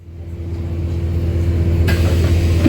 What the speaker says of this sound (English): The sounds that these buses make are absolutely amazing.